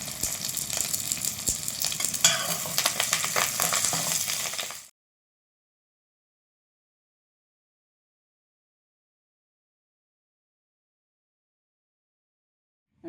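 Garlic and curry leaves frying and being stirred in a hot pan, a dense close sizzle with scraping for about five seconds, then sudden silence.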